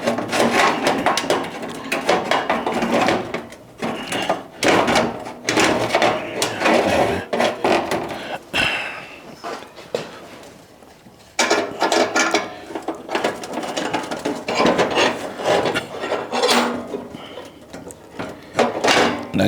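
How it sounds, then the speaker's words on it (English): Metal clamps being loosened and pulled off a metal worktable, a busy run of clanks, ratcheting and scraping up close, with a brief quieter pause midway before the clatter resumes. "let me get these clamps off of here"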